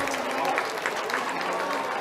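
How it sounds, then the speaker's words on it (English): A high school baseball crowd claps and cheers in a continuous, moderately loud wash of applause with scattered shouts, sounding somewhat distant. "And everyone for Pleasant Grove on their feet cheering him on."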